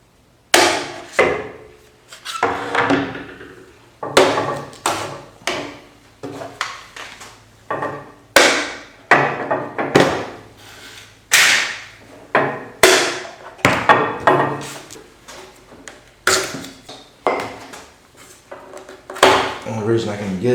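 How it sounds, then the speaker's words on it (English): Woodworking clamps come off boards glued into a wide panel after a day of curing, producing a steady series of sharp, close wooden knocks, clacks and metallic rattles in a fairly regular rhythm. "So let's start taking the clamps off and see what we have."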